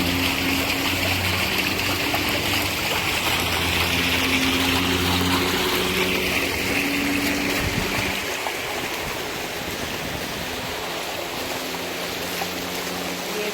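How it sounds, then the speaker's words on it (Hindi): Water flows steadily into a pond at an ashram in Miami, a continuous broadband rush that stays near and even throughout, with a low hum underneath that fades after the midpoint. "जल बहता हुआ"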